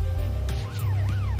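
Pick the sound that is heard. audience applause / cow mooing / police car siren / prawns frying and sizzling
police car siren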